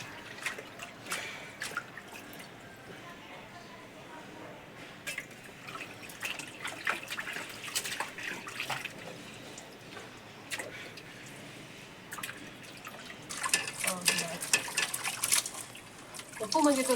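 Water splashes and drips as mutton pieces are rinsed in a bowl for biryani, irregular sloshing and trickling at close range, growing busier toward the end, with no talk over it.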